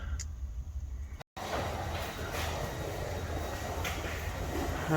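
Steady rumbling train noise fills the space at Bedford train station in England, a continuous low roar with a brief drop to silence near the start.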